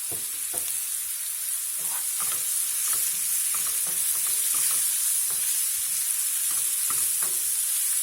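Peppers sauté in a pan with a steady, bright sizzle, and repeated scraping stirs knock at an uneven rhythm over the frying hiss.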